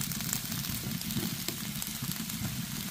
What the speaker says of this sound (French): là dans une poêle que j'ai bien chauffée, je vais venir ajouter paprika, oignon et tomates